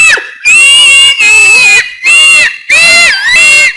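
Someone shouts and screams in loud, harsh, high-pitched bursts, four long strained cries separated by short pauses, very close and distorted.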